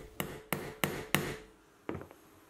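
Four sharp, evenly spaced hammer blows on a chisel in oak, a pause, then one more strike, fairly quiet and close.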